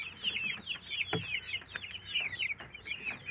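Young chickens from a first hatch, about six weeks old, cluck and peep continuously in a soft, busy chorus, with one brief louder thump partway through and no voices.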